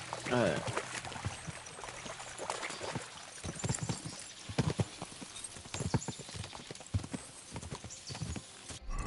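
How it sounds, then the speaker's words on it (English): Horses in Kingdom Come: Deliverance II crossing a stream: hooves pound rapidly in an uneven galloping rhythm, mixed with splashing and a brief whinny near the start, all fairly close and steady throughout. "we'll give the horses a gallop again"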